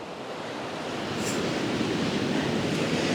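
Ocean waves washing onto a sandy beach, a steady broadband roar of surf that swells slightly louder partway through, with some wind rumble on the microphone and no voices.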